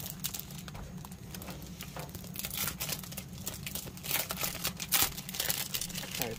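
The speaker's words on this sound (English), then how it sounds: "Sorry, that's the crinkling." Plastic packaging from a Levenger Black Friday mail order crinkles and crackles close by in irregular bursts, with sharper crunches toward the end and no talking.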